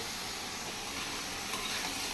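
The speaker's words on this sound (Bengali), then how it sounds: "সেই কড়াইয়ের মধ্যেই মশলা কষায় নিলাম ডাটাটা কষানোর জন্য তো ডাটা আলু পটল একসাথে দিয়ে দিলাম" Stems, potato and pointed gourd sauté with spices in a wok, giving a steady, even sizzle with a soft hiss throughout and no voices.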